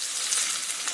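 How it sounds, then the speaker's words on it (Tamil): Shallots dropped into hot oil with mustard seeds and urad dal on low heat, giving a bright, steady sizzle heard close up and without any talk. "சின்ன வெங்காயம் போட்டுருவோம்"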